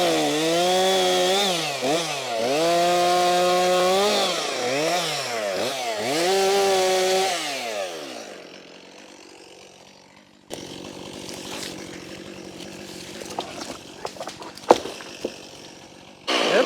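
A chainsaw cuts into a standing tree, its engine revving loud and near in repeated rising and falling bursts, then idling down; rustling, cracking wood and handling noises follow.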